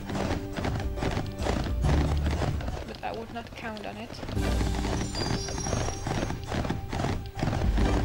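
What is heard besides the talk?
horse galloping and neighing in Barbie's Horse Adventures video game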